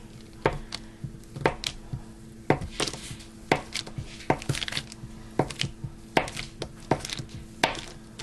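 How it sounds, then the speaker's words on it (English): Knife cutting cold butter into small cubes on a board, giving a series of crisp, irregular chopping taps close up, with no talking. "I like to cut it up into small cubes, so it makes it a lot easier to cut it into the flour."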